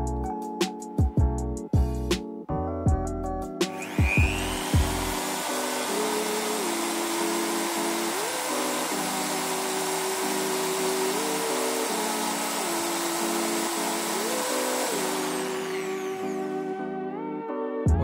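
A Browynn impact drill starts with a series of sharp clicks and short bursts, then runs at its lowest speed with a steady, close whine and motor hum for over ten seconds before winding down.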